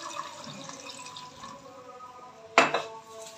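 Water splashes briefly into a cooking pot holding ghee, a short burst after a quiet stretch of faint kitchen background.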